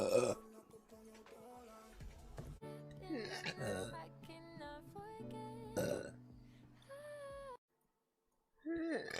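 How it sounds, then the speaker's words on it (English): A person lets out a series of loud, drawn-out burps close to the mic, one after another with brief gaps and a short silence near the end, and talk in between. "my burps kind of be on point right now"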